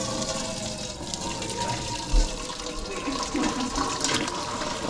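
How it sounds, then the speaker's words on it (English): Squirrel meat and liquid from a crock pot poured through a strainer, a steady wet splashing and trickling flow that runs continuously at close range, with a brief thump partway through. "attempt to grab this crock pot and strain it"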